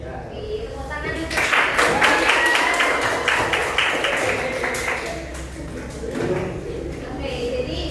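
Applause breaks out from a seminar audience in a career psychoeducation session, a dense patter of many hands rising after a moment, peaking, then fading and swelling again, with voices mixed in.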